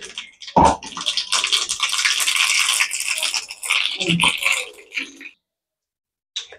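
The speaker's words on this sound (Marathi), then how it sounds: "आता तेल गरम झालंय, त्याच्यामध्ये मी टाकते मोहरी." Mustard seeds hit hot oil and sizzle loudly at close range, a dense crackling hiss with a sharp burst at the start that fades out after about five seconds, no talk.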